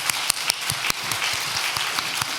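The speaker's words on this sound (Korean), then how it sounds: "우리 뜨거운 박수로 환영하겠습니다." A church congregation claps warmly to welcome new members during a Sunday service, a dense, steady burst of applause with sharp individual claps standing out, no voices over it.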